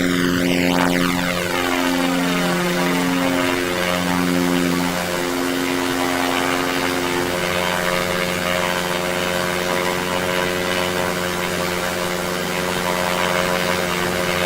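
Engine of a thin, stick-like aircraft in the flight game SimplePlanes, a steady droning hum with harmonic tones that sweep down in pitch early on, then settle into an even, continuous idle-like note.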